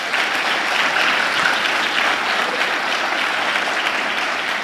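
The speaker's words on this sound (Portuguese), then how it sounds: "Vamos aplaudir o Senhor." A church congregation claps together in steady, dense applause that fills the space evenly from start to finish, with no voices standing out.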